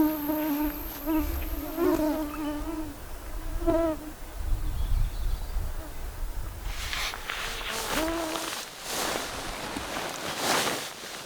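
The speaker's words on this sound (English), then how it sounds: "Hopefully the skeeters ain't too bad" Mosquitoes and other insects buzzing at night out in the wilderness: thin, wavering whines come and go close to the microphone, followed by a busier, hissing stretch of insect noise and rustling.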